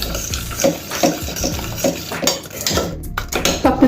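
A ladle mashing cooked lentils in a pot for bottle gourd dal, with rhythmic clanking strokes against the metal and soft wet squelches, close and fairly loud.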